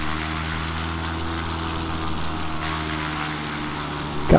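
A Cub Crafters X-Cub light aircraft engine runs before takeoff, giving a steady, close propeller drone at a constant pitch that holds for several seconds without talk.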